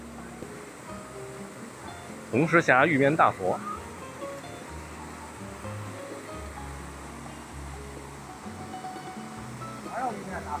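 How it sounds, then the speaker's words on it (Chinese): A waterfall in Red Stone Gorge on Yuntai Mountain in the Taihang range makes a steady, low, soft rush in the background. People talk nearby over the sound. "这儿又是一个瀑布了"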